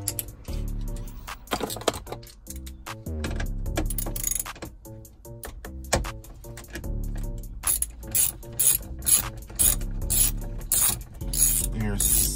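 Ratchet clicks as 7mm screws come out of a Chevrolet Tahoe dash, with bursts of rapid pawl ticking in irregular runs, close and fairly loud, sometimes pausing between screws.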